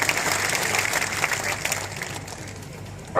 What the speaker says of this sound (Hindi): तो तैयार है, ताली बजा दीजिए, मान लें तैयार है।